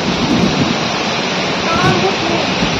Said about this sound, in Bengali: প্রচুর ঝড় হচ্ছে, বৃষ্টিটা এখন একদম নেই, ঝিরিঝিরি, কিন্তু ঝড়টা প্রচুর পরিমাণে হচ্ছে।